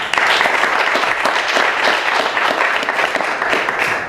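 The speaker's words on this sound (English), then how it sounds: "I want you to join me in applause as we re-welcome my esteemed co-host" Studio audience of a talk show applauds to welcome back the co-host, a dense, loud, steady round of clapping filling the whole stretch without a break.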